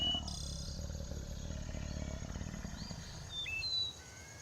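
A lion in the Serengeti rumbles in a low, quiet, sustained roar beside a fresh kill, steady for several seconds before fading, while small birds chirp briefly in the background.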